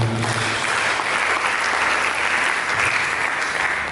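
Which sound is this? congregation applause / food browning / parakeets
congregation applause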